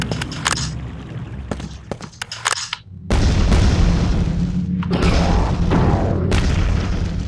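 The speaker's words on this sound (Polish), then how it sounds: "Coś tam wybucha, nie wiem co." Explosions in the shooter game Quake 2 Evolved, several sharp booming blasts followed by a loud sustained rumbling roar that fills the last seconds.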